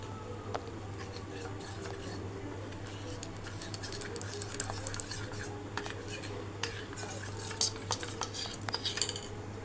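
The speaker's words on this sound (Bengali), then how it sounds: "কাস্টার্ড ঠান্ডা জল দিয়ে গুলতে হয়।" Custard powder stirred into cold water with a spoon in a bowl, light repeated clinks and scrapes of metal against the dish over a low steady hum, with someone talking intermittently.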